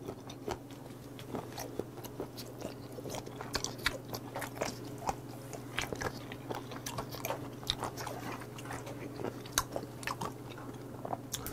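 Close-up chewing of crunchy raw cuttlefish sashimi, with rapid, irregular crisp crunches and bites repeating steadily over a quiet background.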